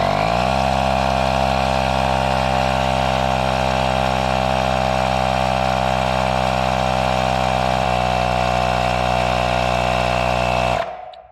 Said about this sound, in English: we're only getting the average of when the compressor is running